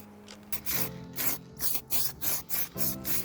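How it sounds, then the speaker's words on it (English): Grey primer is misted in short, light bursts over an expanding-foam Halloween terrain piece, about six brief hissing sprays in a steady rhythm, close and fairly soft. "I gave it a super light spritz with the original grey primer once again"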